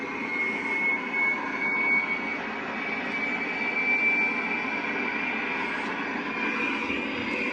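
Recorded diesel engine running, played as a sound effect aboard the museum submarine U-2540 (Wilhelm Bauer): a continuous, fairly quiet mechanical drone with a faint steady whine, unchanging throughout, with no talking.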